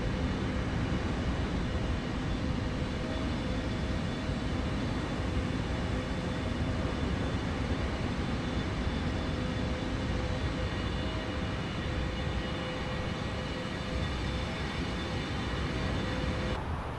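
Steady, loud roar of an airliner's engines during takeoff from Mumbai runway 27, simulated in Microsoft Flight Simulator, holding a constant broadband rumble with faint tonal whine throughout.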